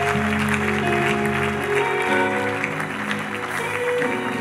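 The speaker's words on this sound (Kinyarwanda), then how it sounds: "Reka dukomere Imana amashyi menshi." Church congregation at a Pastor Didier service breaks into sustained, even clapping that holds steady throughout, blended with continuous instrumental music.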